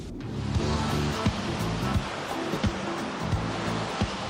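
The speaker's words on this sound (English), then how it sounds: "This is where the river flows into the sea." A river flows into the sea with steady broadband rushing water and surf, a continuous wash broken by occasional brief splashes and knocks, with no voices.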